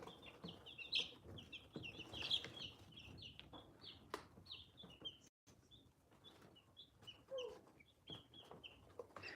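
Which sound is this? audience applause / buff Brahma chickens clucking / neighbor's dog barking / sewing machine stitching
buff Brahma chickens clucking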